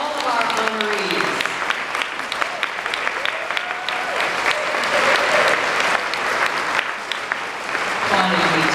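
An audience applauds a singer and dancer and other honorees at an annual honoring and cultural celebration, with dense, steady clapping filling the room throughout and a few voices and a whistle-like tone rising faintly over it.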